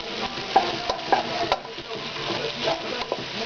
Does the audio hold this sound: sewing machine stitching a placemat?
no